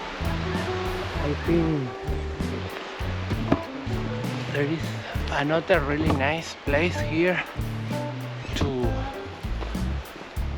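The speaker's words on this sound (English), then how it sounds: "I found really nice river next to the camping" A river rushes beside a campsite at Lacar Lake near San Martín de los Andes, Argentina, a steady wash of flowing water heard under someone speaking close to the microphone.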